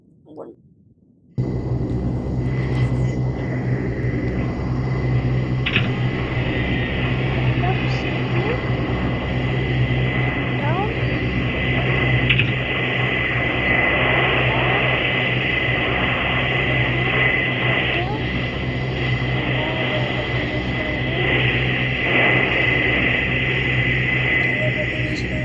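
A simulated airplane engine drones in a flight simulator game during an emergency landing. A constant, fairly loud hum with steady tonal layers runs unbroken after a brief quiet start.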